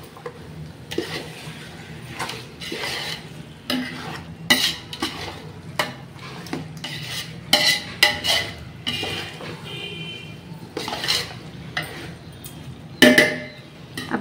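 Meat added to a biryani pot and stirred, a series of scraping and clanking strokes of a spoon against the metal vessel, irregular and close, with occasional sharp clinks.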